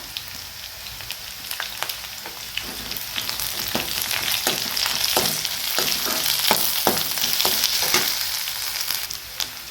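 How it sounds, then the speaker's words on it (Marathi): Chopped green chillies and curry leaves hit hot oil with golden fried onion in a pan for sprouted moth bean usal, a continuous loud sizzle with crackling bursts and occasional stirring scrapes, close up and alone. "आता यामध्येच आपण ही मिरची कट करून घेतलेली ही घालायची आणि हा कढीपत्ता"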